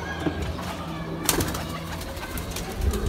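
Domestic pigeons cooing in a loft, soft repeated low coos close by with a sharp knock partway through and some background hum.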